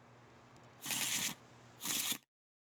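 Two quick bursts of a card deck being shuffled in a Tabletop Simulator board game, each riffle lasting about half a second with a pause between, clear against a quiet room hum.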